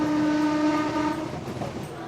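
A passenger train heading into Calcutta sounds a long steady horn that fades as the cars roll on with soft clattering wheels, fairly loud and alone.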